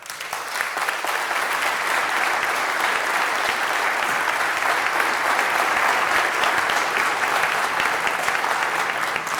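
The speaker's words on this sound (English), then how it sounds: "And I think that is something that deserves applause." Sustained applause from an audience at a city council meeting, a dense, even wash of many hands clapping that holds steady throughout with no voices over it.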